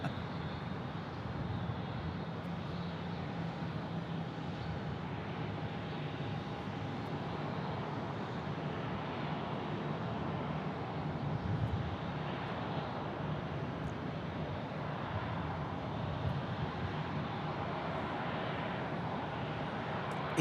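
A Sun Country airliner arriving from Minneapolis at Phoenix Sky Harbor produces a soft, continuous broadband engine rumble at a distance, steady throughout with no talk.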